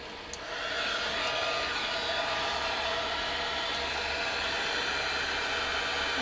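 Heat gun blowing hot air while softening a 3D pen stencil, a steady broadband whoosh that holds close and constant from start to finish with no talk.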